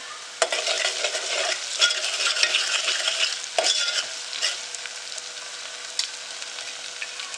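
Chopped onion roasts slowly in a pan of oil over low heat for misal pav, with mustard seeds already spluttered in, giving a steady soft sizzle broken by occasional scraping stirs, close and alone.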